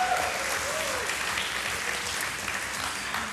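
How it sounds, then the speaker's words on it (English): A large crowd at a televised vocal competition gives a sustained round of applause for the sponsors, a thick, even wash of clapping that holds steady throughout with a faint voice briefly audible beneath it. "a massive round of applause for all of our sponsors"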